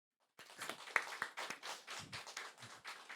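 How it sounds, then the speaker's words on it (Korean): A church congregation claps to welcome a missionary coming forward during a Sunday service, the applause starting abruptly and continuing steadily, irregular claps filling the room at moderate level. "우리 신재규 선교사님 지금 나오시는데 우리 크게 한번 박수로."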